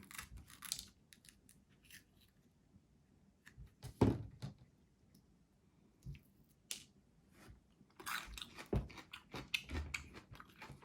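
Sharp, crisp crunches come in scattered bursts from biting into a firm, juicy Aji Cachucha pepper, with quiet gaps between the bites.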